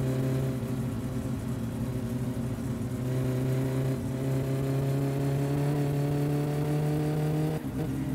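A bus in My Summer Car rolls along with a steady droning engine hum, a constant low tone holding at moderate volume with little change.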